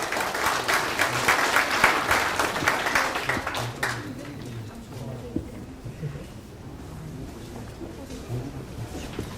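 Audience applause at a Saenuri Party Daejeon city chapter policy talk show, a dense burst of clapping for the first four seconds that then fades into quieter room noise and low murmuring.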